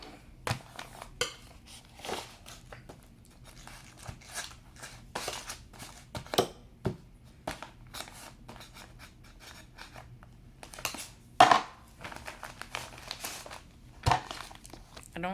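Knife slicing into the packaging of a YouTube Play Button, heard as a run of close, faint crinkles, scrapes and scratchy cuts in irregular bursts, with a sharper tearing snap near the end.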